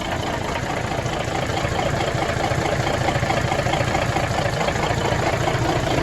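A rebuilt 1981 Peterbilt 359 truck engine idles steadily after a year without starting, a loud, continuous low rumble with slight knocking texture and no pauses.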